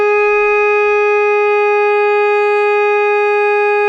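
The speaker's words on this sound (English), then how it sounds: "we're going to be making sounds on our neck and our mouthpiece" A saxophone neck and mouthpiece blown without the body produce one steady, piercing, siren-like tone held for about four seconds, loud and unbroken.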